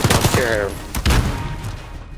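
A volley of gunfire cracks out in a game siege, a burst of several sharp shots at the start, then another heavy thudding blast around a second in, with voices mixed in.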